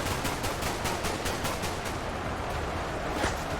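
Dense video game gunfire, a rapid continuous burst of machine-gun shots that is loud and unbroken throughout, with no voices over it.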